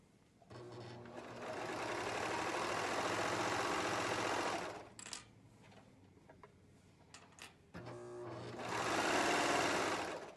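A serger sewing machine stitches fabric for an infinity scarf, running in two sustained loud bursts with a quieter pause of faint handling between them, no talking.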